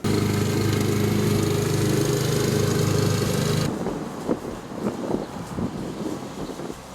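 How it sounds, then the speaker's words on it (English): Steady droning hum of distant lawn mower engines for a few seconds, then it cuts out abruptly, leaving quieter scattered rustles and clicks. "watch what happens if you just play the segment where the lawnmowers are far away"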